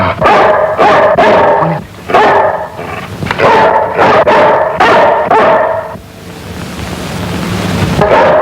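A dog barks repeatedly and loudly up close in a classic Pakistani film scene, with a steady series of rough barks for about six seconds before a quieter stretch of background noise.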